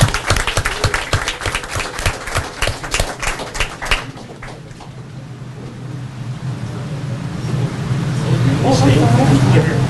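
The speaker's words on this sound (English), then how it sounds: "So a special round of applause for them." An audience at an all-star team announcement bursts into quick, dense applause that dies away after about four seconds, leaving a low murmur and rising room noise.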